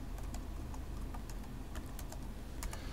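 Typing on a computer keyboard, a quick run of light key clicks in an uneven rhythm, close and steady over a low background hum, with no talking.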